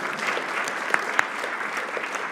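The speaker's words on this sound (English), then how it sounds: "quick round of applause, maybe." An audience at an investment conference Q&A gives a brief, steady round of applause. The many hands clap evenly throughout, with a couple of sharper claps standing out.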